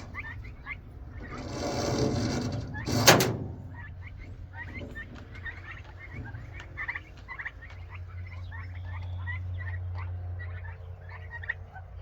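Turkeys gobble repeatedly in a pasture pen, with a brief rattling burst of handling noise early on and a low mechanical hum later, the birds' calls scattered and moderately close.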